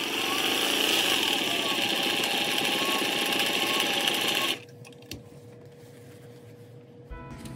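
A Singer 401A sewing machine fitted with cam number 4 runs in a loud, steady, fast whirring chatter for about four and a half seconds, then stops abruptly, leaving a quiet room with a few faint clicks.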